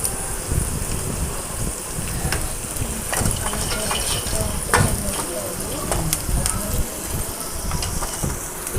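Sliced onions and green chillies fry in hot oil, a constant loud sizzle broken by scraping clinks as a ladle stirs the pan.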